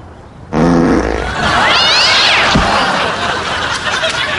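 A cat stuck up in a tree lets out a loud, drawn-out yowling meow that rises and falls in pitch, clear and close, with nobody speaking over it.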